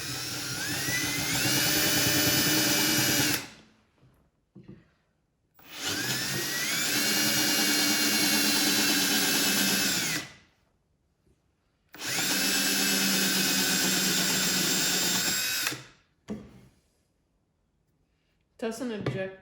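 Power drill boring a hole in wood for joinery, running in three sustained bursts of a few seconds each with brief pauses between, close and loud, with a short restart at the end.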